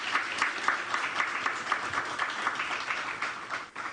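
Applause at an education ministry news conference honouring top national exam students, a moderate clatter of individual hand claps from a modest gathering, fairly steady and fading slightly at the end.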